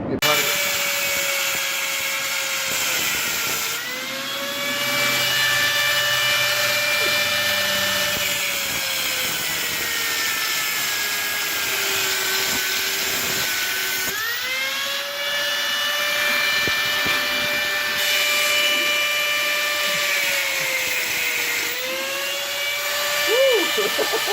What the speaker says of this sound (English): I took the trusty old angle grinder, cut us out a square right here